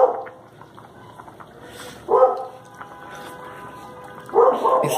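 A dog in a home kitchen gives a couple of short, sharp barks spaced a few seconds apart, fairly close, over a low steady background hiss and no talking.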